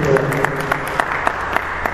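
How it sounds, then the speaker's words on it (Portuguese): Church congregation clapping together in steady rhythmic applause, a loud crowd sound throughout with a voice over it. "uma salva de palmas"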